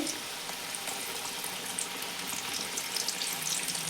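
Papdi, small fried flour crisps for dahi papdi chaat, frying in hot oil over a low flame while being tossed, giving a dense continuous bubbling sizzle that stays steady and close throughout.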